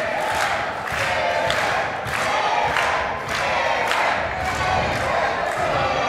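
Wrestling crowd at a live show in Romford roars and cheers steadily, a dense continuous wall of voices with rising shouts and a few thuds, loud and close throughout.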